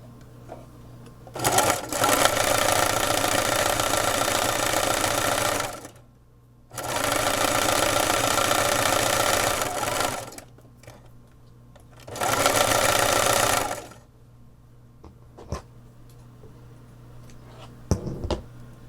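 A sewing machine zigzag-stitches the fabric edges of a drawstring bag in three long, loud, steady bursts of rapid mechanical whirring, separated by quiet pauses with light handling clicks.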